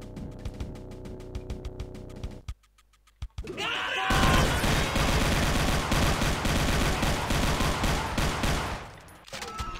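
MP40 submachine gun in Brutal Doom, set in a Wolfenstein level, firing loud rapid bursts: a stretch of rattling shots, a brief near-silent gap, then a long sustained barrage before cutting off.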